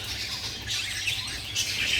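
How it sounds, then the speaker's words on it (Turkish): Small male cage birds chirp and twitter in quick bursts over a constant background hiss, fairly close. "bu sezon ürettiğimiz erkek kuşlarımız"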